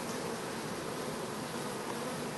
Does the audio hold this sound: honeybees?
yes